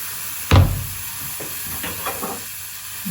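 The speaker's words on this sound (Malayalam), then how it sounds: "ഹാപ്പി ബർത്ത്ഡേ ടു യു പോലെ കഞ്ഞി തിളച്ചു മറിയുന്നു" Rice porridge boils over in a pot on a stove, giving a sudden hissing burst followed by softer sizzling and steam hiss that tails off over a few seconds.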